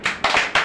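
A small group of people clapping for a prize winner at a game, three bursts of close, loud applause in quick succession.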